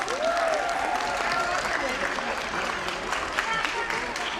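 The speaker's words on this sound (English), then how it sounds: "Let's give them one more round of applause for this incredible effort." Audience applause fills a school annual day show for play group and nursery children, a steady dense clapping from a crowd that carries on under a voice talking over it.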